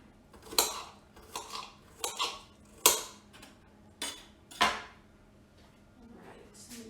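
Vegetables dropped into a hot iron skillet land with several sharp clattering hits and bursts of sizzle, spaced irregularly over a few seconds, close and moderately loud, with faint kitchen noise between.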